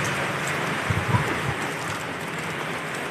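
Steady rain pattering onto a market stall, a dense even hiss with a few heavier drips or thuds near the middle, continuous and fairly close.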